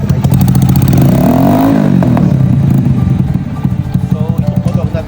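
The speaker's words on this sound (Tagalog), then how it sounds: "ito yung maayos tong motor na to. So start natin guys." A motorcycle engine runs loud and close, revving briefly then settling into a rapid rhythmic putter, with a voice speaking over it.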